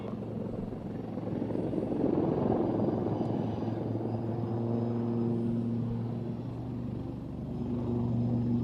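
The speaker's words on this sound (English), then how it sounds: "The aircraft are now positioning for opposition." Aircraft engines drone steadily through an aerobatic display, a continuous loud rumble with sustained tonal hums that swell and shift as the planes maneuver overhead.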